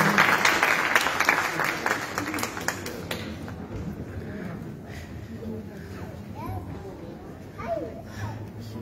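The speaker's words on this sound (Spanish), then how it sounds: "un aplauso para la Corporación Santos de Alguien que nos acompaña esta noche" Audience applause at a youth council recognition gala in Comuna 16 Belén, a burst of clapping strongest at the start that thins out after a few seconds, with crowd chatter and children's voices continuing underneath.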